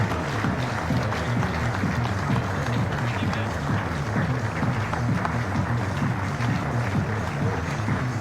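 Sizable stadium crowd at Hive Stadium applauding as Scotland U20 and Hong Kong U20 rugby sides come out for a World Rugby U20 Trophy match, a continuous distant wash of clapping and crowd noise under low rumble.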